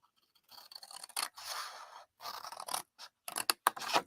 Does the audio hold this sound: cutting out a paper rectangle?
yes